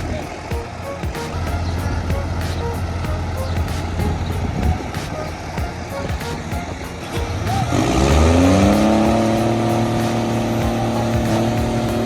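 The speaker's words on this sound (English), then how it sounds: "The engine roars loudly, but even with two tractors working together, the melon truck still lies there unmoving." Two tractors strain to pull a stuck melon truck out of mud, a low engine drone that swells into a loud rising roar near the end, with voices underneath.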